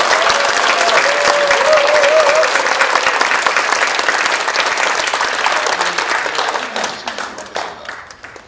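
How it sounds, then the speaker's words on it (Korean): Loud, dense crowd applause greets the opening of the 2013 Manmin Gongdonghoe public assembly, holding strong for several seconds before tapering into scattered individual claps. "큰 박수 부탁드리겠습니다"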